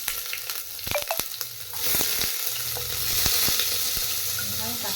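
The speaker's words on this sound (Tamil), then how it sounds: "அதுக்கு மேலே வெங்காயத்தை போட்டுருவோம்." Onions go into hot oil already holding cinnamon and cloves, setting off a loud, steady sizzle and crackle with occasional stirring clicks, close by, no talking.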